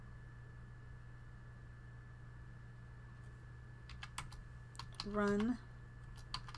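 Sparse keystrokes on a computer keyboard while naming a boarding house in The Sims 4, a few light clicks over a quiet hum, with a short spoken word near the end.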